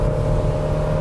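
A Jeep Renegade 1.8 Sport pulls hard in third gear, its engine giving a loud, steady drone from inside the cabin for about a second.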